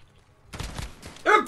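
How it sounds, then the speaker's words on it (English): Gunfire in the Modern Warfare beta video game: a burst of rapid shots and thuds starting midway, ending in a louder, brighter crack of fire, with a voice talking faintly beneath. "I'm gonna shoot through that"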